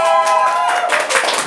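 Studio audience clapping, a quick burst of dense applause that starts over a voice and swells in the final second.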